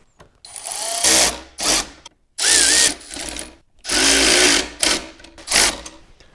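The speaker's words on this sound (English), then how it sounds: "I'm going to torque these down." Power tool driving bolts on a Touratech pannier rack being installed on a BMW R 1300 GS motorcycle, loud close bursts of whirring and ratcheting in several separate runs with short pauses.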